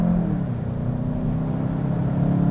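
A 2021 Volkswagen Jetta GLI accelerates hard out of a corner on a rainy road, producing a steady, loud engine drone with a low rumble that holds firm throughout and has no talking over it.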